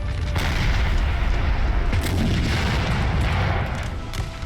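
Napoleonic cannon fire in Napoleon: Total War, dense overlapping booms of artillery batteries in a large battle, a continuous loud rumble punctuated by sharper distant reports.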